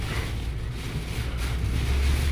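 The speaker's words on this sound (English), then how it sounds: "40, 50 mile an hour winds ain't nothing to laugh about." Strong tropical storm winds of around 40 to 50 miles per hour from Tropical Storm Nicolas roar steadily near a boat slip, a dense, constant rumbling buffet against the microphone with no pauses.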